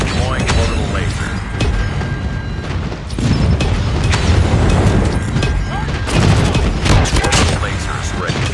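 Airstrike explosions in Call of Duty Mobile during a 10v10 Domination match on Shipment 1944, loud repeated booms mixed with rapid gunfire and in-game voice callouts.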